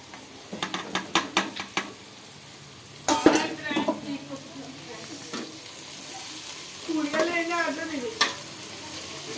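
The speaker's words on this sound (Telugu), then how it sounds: "ఉల్లిపాయలు కూడా బాగా ఎగిపోయాక టమాటాలు వేసుకోవాలి ఫ్రెండ్స్." Onions and tomatoes frying in a pan while being stirred, with clinking spoon strikes against the metal early on and a soft steady sizzle underneath, fairly quiet and close.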